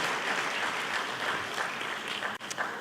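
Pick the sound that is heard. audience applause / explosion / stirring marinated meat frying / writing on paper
audience applause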